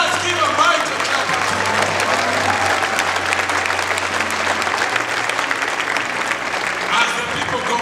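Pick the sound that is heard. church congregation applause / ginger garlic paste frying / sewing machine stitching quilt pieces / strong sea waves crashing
church congregation applause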